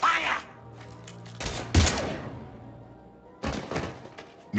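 In Mass Effect 3, gunfire comes as a few sharp bursts separated by quieter gaps, with fairly loud, clustered shots.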